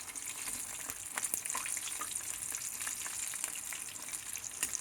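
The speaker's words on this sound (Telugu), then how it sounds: "మీడియం ఫ్లేమ్లో పెట్టి వేయించుకోవాలండి ఇవన్నీ." Sweet eggless mini puffs fry in oil over a medium flame, giving a steady, faint, continuous sizzle with small crackles throughout.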